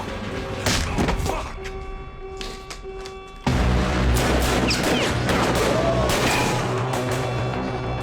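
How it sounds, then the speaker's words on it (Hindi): In a Hindi film scene, a sudden loud blast cuts in partway through, followed by sustained sharp, crackling bangs like gunfire fired inside a building, dense and close over a noisy background. "गोली की आवाज।"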